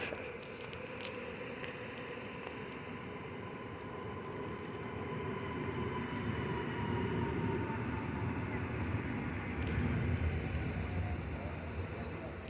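A train pulls out of Poznań Starołęka station with a low, steady rumble of wheels and machinery that slowly grows louder as it gets moving, with no voices over it.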